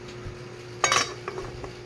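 A lid going onto a cooking pot of pork with banana heart in an outdoor rural kitchen, heard as a sharp metallic clatter and a few lighter clinks that follow, with no voices over it.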